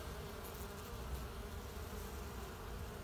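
Honeybees of a wintering pure Carniolan breeding colony in Gebze, which has begun laying eggs, buzz at the hive in a dense, steady hum, continuous and moderately faint with no voices.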